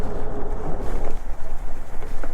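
Lectric XP Lite e-bike rolling off-road along a sandy trail, with steady loud rumble and wind buffeting the microphone throughout, no voices.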